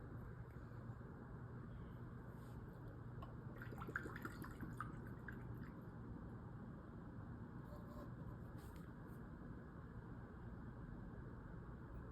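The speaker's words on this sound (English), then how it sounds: "Now I'm gonna pour in Perfumer's magic all the way to 50 milliliters so I can make my perfume." Perfumer's magic liquid poured into a container, filling to about 50 milliliters for homemade perfume, a soft steady trickle and drip over a constant low background hum with no voices.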